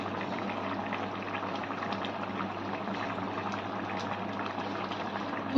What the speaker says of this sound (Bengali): এর মধ্যে দিয়ে দেব দুধ। আমি এখানে লিকুইড দুধ ইউজ করছি।